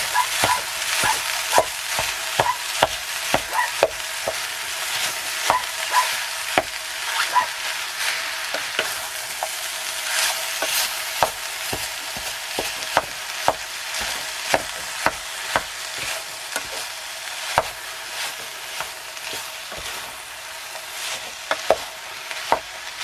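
Lean steak mince sizzles steadily in a hot Trangia camping stove pan, with frequent sharp scrapes and taps of a utensil stirring it.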